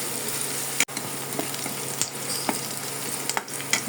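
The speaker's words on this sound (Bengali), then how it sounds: "পেঁয়াজগুলোকে হালকা ভেজে নেব।" Chopped onions sizzle lightly in hot oil in a stovetop pan, a continuous crackle broken by a sharp utensil knock and soft stirring scrapes, with no voices.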